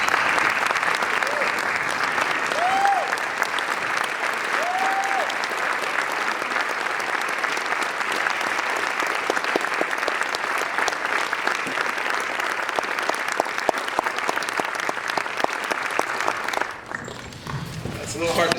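A crowd gives long, sustained applause for student performers standing at a 1920s-themed history evening, dense clapping running steadily for most of the stretch before dropping off near the end, with voices heard faintly beneath.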